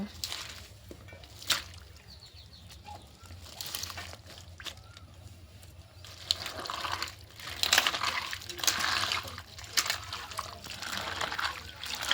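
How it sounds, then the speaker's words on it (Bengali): Malabar spinach (pui shaak) being washed in water by hand, with soft trickling, sloshing and dripping splashes that grow busier toward the end, close and fairly quiet. "আমি পুঁই শাকটা ধুয়ে নেব"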